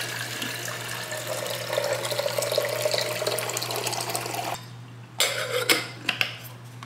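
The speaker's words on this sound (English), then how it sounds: "let's fill up the kettle." Water runs from a kitchen tap into a kettle, a steady rushing stream over clinks of dishes and cutlery, then cutting off with a few sharp knocks near the end.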